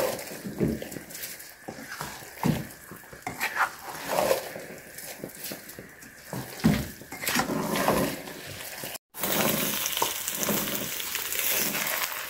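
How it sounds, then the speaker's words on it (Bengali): Polao rice and potatoes fry in a pan with a continuous crackling sizzle, with occasional stirring scrapes and a brief break near the end. "চালটা আমি বেশ কিছুক্ষণ ভেজে নেব।"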